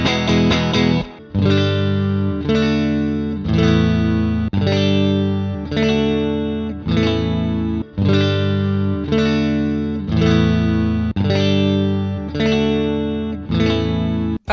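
A Stratocaster electric guitar played through effects, with repeated strummed chords ringing in a steady rhythm, each one sustaining and decaying before the next, loud and close with a distorted, chorused tone.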